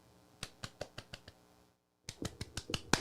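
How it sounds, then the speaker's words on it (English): A few scattered, unhurried golf claps, sparse individual hand claps in a short run, a brief pause, then another loose burst of claps, close and fairly soft with no talking. "some golf claps"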